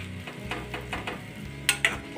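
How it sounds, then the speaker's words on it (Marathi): Grated raw mango roasts in oil, giving a soft, quiet sizzle with stirring scrapes and two sharp utensil clinks near the end. "आंब्याचा किस छान भाजून टाकायचा ह्या तेलामध्ये."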